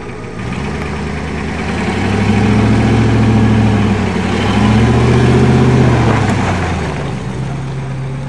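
A Ford F250 diesel pickup truck engine running just after a pull start, a loud, steady rumbling idle with two gentle swells in revving, close by and with no talk.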